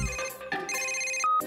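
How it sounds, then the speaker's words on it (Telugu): A telephone rings with a bright electronic ringtone melody in short tonal bursts, clear and close in a cartoon scene. "ఒక ఫోన్ వస్తే దాన్ని కూడా నేనే తీయాలి."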